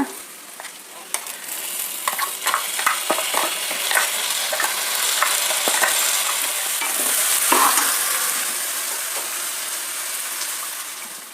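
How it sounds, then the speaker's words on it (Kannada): Ground masala is added to frying onions and stirred in the pan, giving a run of close scraping and tapping strokes over a continuous sizzling hiss that swells and fades. "ರುಬ್ಕೊಂಡಿದ್ನಲ್ಲ ಆ ಮಸಾಲೆ ಹಾಕೋಣ"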